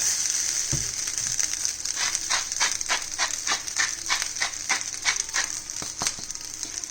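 Fried rice sizzles steadily in a pan while being stirred, with a constant hiss overlaid by a run of quick scraping rattles from the spatula, fairly close and with no talking.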